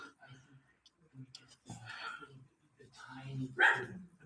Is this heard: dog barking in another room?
yes